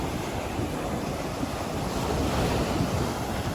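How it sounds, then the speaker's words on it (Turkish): Big sea waves breaking on a beach at Silifke: a steady, loud roar of surf mixed with heavy wind noise on the microphone, continuous throughout with no talk. "denizde şimdi böyle büyük büyük dalgalar var"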